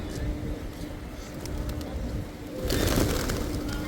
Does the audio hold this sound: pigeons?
yes